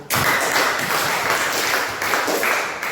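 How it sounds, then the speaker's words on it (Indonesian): A classroom claps for a student group after their presentation, a continuous burst of applause starting abruptly and staying fairly even and close for its whole length. "terima kasih kepada kelompok 1, tepuk tangan dulu"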